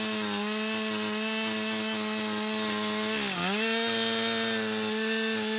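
Husqvarna 395 XPG chainsaw running steadily while cutting a V-shaped notch in a large tree, a loud continuous close-up engine whine that dips briefly under load midway and then recovers.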